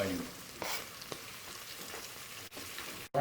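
Onions drop into the bottom of a Latin rice pot and fry with a soft, continuous sizzle, quiet and close, with a few light stirring touches.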